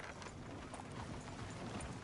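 Faint, steady clip-clop of horse hooves in the video game Red Dead Redemption II, a soft continuous patter with light mechanical rattling, heard far off and quiet.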